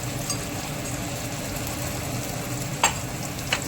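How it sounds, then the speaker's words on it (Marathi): Tomatoes frying in oil for a bottle gourd kofta curry, a steady close sizzle running throughout with two brief sharp clinks near the end. "मस्त टमाटर द्यायचं तेलामध्ये घातलेला आहे"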